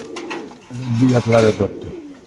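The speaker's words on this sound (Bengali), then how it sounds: "বড় সাইজের একটা মাদি কবুতর" A large female pigeon offered for sale gives one close, loud, throaty coo that swells and wavers for about a second before tapering off.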